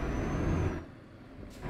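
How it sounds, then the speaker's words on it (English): A Renault truck driven in a video game gives a steady, fairly loud engine drone with hissing air noise. The sound drops and thins briefly midway, then swells again at the end, with no talk. "This truck is so frustrating to drive."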